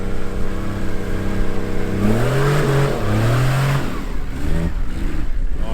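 A 4x4 climbs a rocky beach embankment, its engine droning steadily, then revving and labouring in rising surges before settling, loud and close with no talk.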